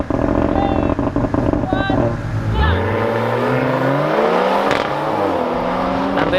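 A BMW M140i and a Mercedes A45 launch side by side in a drag race, engines roaring loud and close, then revving up through rising gear pulls as they pull away, with a commentator talking over them.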